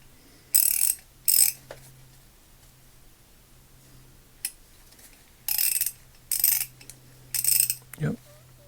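Craftsman Tri Prop ratchet (model 43176) freshly cleaned and serviced, clicking in several short bursts of rapid fine ratcheting with pauses between, close and crisp over a faint low hum.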